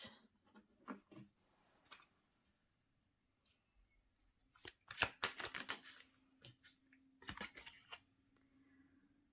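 Tarot cards are shuffled and drawn close by in quiet, scattered bursts of crisp riffling, flicking and rubbing, with one longer busy flurry in the middle.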